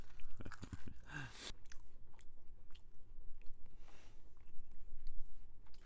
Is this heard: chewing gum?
yes